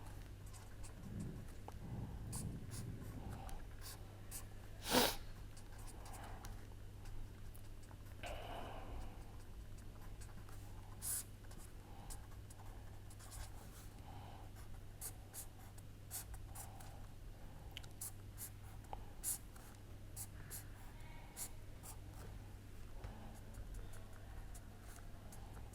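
Chalk or marker writes on a board in a chemistry lecture, faint scratchy strokes in scattered bursts over a low steady hum, with one sharper knock partway through.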